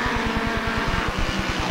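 A V4 sprintcar engine of the race leader at a speedway purrs along in a fast, steady pulsing rhythm, loud and close, heard alone without talk.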